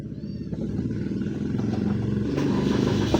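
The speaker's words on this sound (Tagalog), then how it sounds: "Do you wanna hear the engine?" An idling car engine heard from inside the vehicle gives a steady low rumble that builds slightly louder toward the end, with no talk over it.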